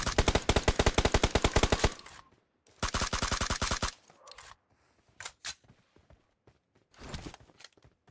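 Gunfire from the video game PUBG Mobile comes in rapid automatic bursts, two long sustained strings followed by shorter scattered shots, loud and close, with no talk over it.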